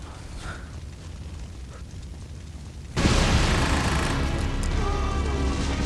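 A sudden, loud explosion erupts midway through Resident Evil 3 gameplay, jumping from a quieter ambient backdrop into a sustained roaring blast that keeps rumbling to the end.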